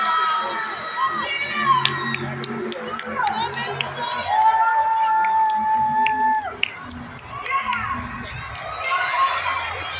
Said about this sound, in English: Come on, Monster Jam fans, cheer on Megalodon.